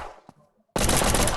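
Sustained rapid machine gun fire in a zombie apocalypse mobile game, loud and dense, bursting in after a quiet stretch with a single faint shot and continuing without a break to the end.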